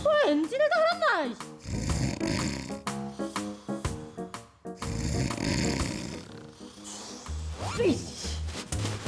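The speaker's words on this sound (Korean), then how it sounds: "아빠의 코 고는 소리였던 거였어 얘." A father snores loudly in an animated children's show about snoring, the exaggerated rhythmic rumbles mixed with cartoon music, sound effects and children's voices.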